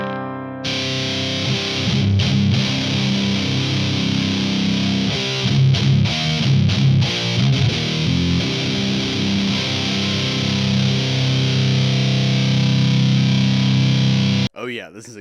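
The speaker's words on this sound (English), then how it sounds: "that just sounds like a normal distorted guitar tone" A heavily distorted electric guitar with a gain boost plays sustained, chugging chords in a thick, gritty 90s/00s nu metal tone, loud and steady throughout before cutting off abruptly at the end.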